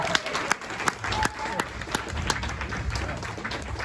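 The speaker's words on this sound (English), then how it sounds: "big round of applause for Penny and G" A small audience at a record and book event claps for the two authors, scattered, fairly sparse hand claps with a few sharp distinct ones, moderately quiet, with some murmuring underneath.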